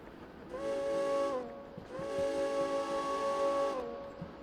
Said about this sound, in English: Blow our whistle.